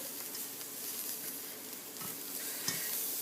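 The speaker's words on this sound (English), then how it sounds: "just threw in some frozen peas, and all I'm going to do is stir it through it." Frozen peas being stirred into rice and chicken in a pot for Puerto Rican arroz con pollo, a quiet crackling sizzle with a few soft spoon scrapes and knocks.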